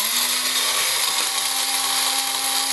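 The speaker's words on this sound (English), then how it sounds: "Plug in the grinder, and now we're gonna grind." An electric coffee grinder grinding coffee beans, a loud, steady whirring motor drone with a constant pitched hum, running continuously up close with no talking.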